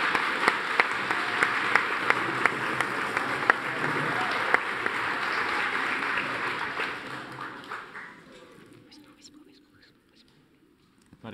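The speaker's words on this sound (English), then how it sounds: "Round of applause to your sovereign." Audience applause at a live university event in Norwich, honouring a performer playing Queen Elizabeth I as sovereign: dense sustained clapping for about eight seconds, then fading to scattered claps and near silence.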